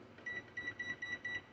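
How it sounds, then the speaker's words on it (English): A kitchen timer being set while cooking Spanish rice gives a run of short, thin electronic beeps in quick succession, near and fairly quiet over faint room noise. "And I'm going to set my timer."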